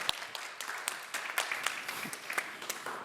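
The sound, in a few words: audience applause for panelists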